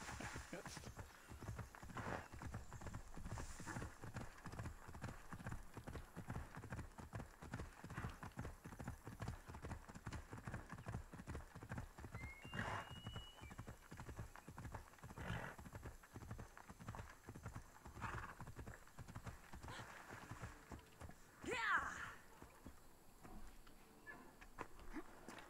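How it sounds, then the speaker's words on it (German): A horse gallops without pause in the video game Assassin's Creed Odyssey: quick, rhythmic hoofbeats run through the whole stretch, with faint background game sounds and voices underneath. "Da läuft das Pferd einfach weg."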